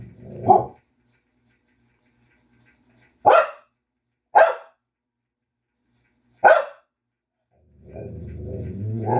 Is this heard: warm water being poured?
no